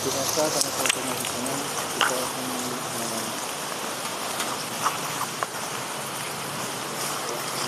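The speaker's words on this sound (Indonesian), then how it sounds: "karena cuaca ini sudah tidak mendukung. Hujan" Rain falls outdoors as a steady close hiss of drops, with people talking over it throughout and a few sharp knocks now and then.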